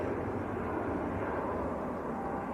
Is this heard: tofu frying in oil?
no